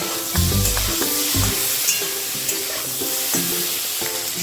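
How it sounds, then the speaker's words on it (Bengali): Mixed vegetables sizzle steadily in a frying pan after salt and turmeric are added, a continuous close frying hiss over a low tonal background with no talking. "এদিকে ভাজাটার মধ্যে দিয়ে দিলাম একটু নুন হলুদ।"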